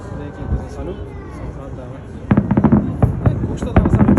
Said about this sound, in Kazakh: Такой вот салют.